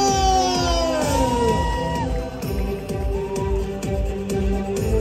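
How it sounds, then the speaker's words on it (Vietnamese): A crowd at the Miss Universe Saigon 2022 pageant crowning breaks into sustained cheering and shouting, with loud music and voices layered over the noisy hall. "một tràng pháo tay thật dài dành tặng cho Venezuela"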